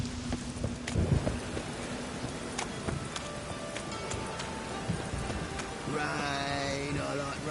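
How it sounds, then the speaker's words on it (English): Steady rain hisses and patters in The Witcher 3, a continuous wash of drops with faint hoof-like clops and scattered clicks, and a tonal, voice-like sound rising near the end. "Rain, I like rain."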